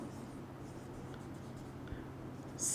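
Chalk or marker scratching briefly across a classroom board during a maths lecture, faint and steady under a low room hum.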